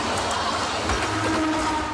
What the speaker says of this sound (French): d'usines quasiment désaffectées, mais où passe plein de trains